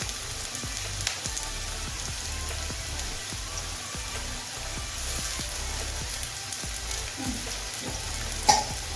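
Potato pieces fry in white oil in a pan, sizzling steadily with a soft crackle throughout and a few scattered pops and utensil taps.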